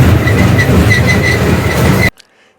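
A train runs close by with a loud, continuous rumble, clattering wheels and repeated high metallic squeals, then cuts off abruptly into near silence after two seconds.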